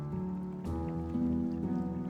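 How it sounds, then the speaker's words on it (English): Steady rain falls in the video game Gothic 2, a continuous soft hiss spread under a low sustained musical drone, with a brief gust-like swell partway through and no talking. "And it's raining already."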